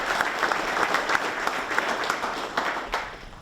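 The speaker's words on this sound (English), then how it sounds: "Can we please give them a round of applause?" An audience at a police awards ceremony applauds warmly, with steady, dense clapping and scattered sharper claps across the whole stretch.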